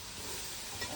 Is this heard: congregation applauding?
no